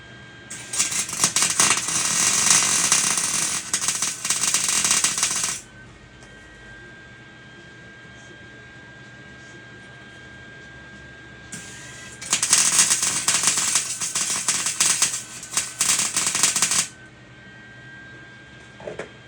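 Tack welds on a Jeep Wrangler TJ exhaust give two long bursts of sharp, crackling sizzle, each about five seconds, close by. A quiet steady hum fills the gap between them.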